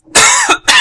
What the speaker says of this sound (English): I'm trying not to cough here